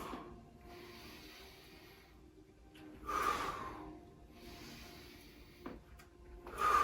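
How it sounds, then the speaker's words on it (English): Deep, slow breathing during a yoga exercise: long airy inhales and exhales through nose or mouth, soft and close, alternating in an unhurried rhythm with no talk over it. "So you inhale up and exhale. You can be breathing through your nose or through your mouth."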